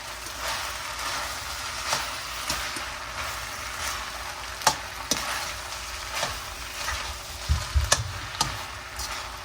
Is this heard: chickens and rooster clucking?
no